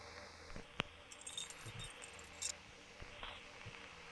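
Light metallic jingling of keys in short bursts, fairly quiet against a faint background hum.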